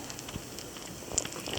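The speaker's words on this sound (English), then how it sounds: "I hear them sizzling a little bit" Pancakes cooking in extra butter in a pan give off a faint, soft, steady sizzle with light crackling pops, heard close and quiet.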